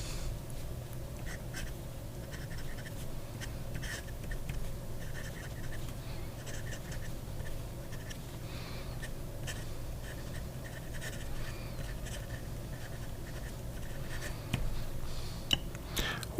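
A nib pen scratches across Stalogy notebook paper in short, irregular strokes, close and quiet over a faint room hum, with a louder tap near the end.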